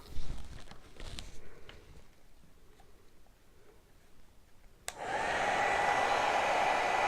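A hair dryer switches on and runs with a steady close whoosh while drying a craft project, after a few seconds of quiet handling noises.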